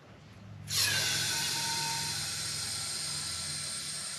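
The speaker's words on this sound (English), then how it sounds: "I'm gonna screw this in to puncture the can." A tap valve being screwed into a 12-ounce AC refrigerant can on a C10 pickup, punctures it and releases a sudden loud, steady hiss of escaping refrigerant that sustains to the end.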